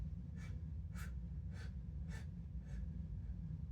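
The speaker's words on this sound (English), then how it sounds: "it's 8 short sips of air in and 8 short sips of air out" Kriya breathing in short sips of air: five quick, quiet breath bursts come at an even pace about half a second apart, close to the microphone over a low background hum.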